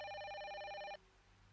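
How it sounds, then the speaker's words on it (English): A telephone rings once, a bright electronic trill lasting about a second, then stops, leaving faint background hum. "Oh, the phone's ringing."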